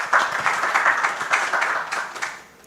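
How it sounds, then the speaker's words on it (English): A conference audience applauds a speaker at a panel on fair technology: steady, dense clapping from many hands that fills the room, then tapers off at the end. "Can we give her a round of applause?"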